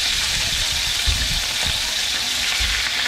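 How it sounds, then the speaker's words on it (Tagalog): Pork belly pieces dropped into hot cooking oil for adobo give a loud, steady frying sizzle with a few soft thumps as the meat settles and shifts in the pan. "Isunod natin ang karne pag mainit ng mantika."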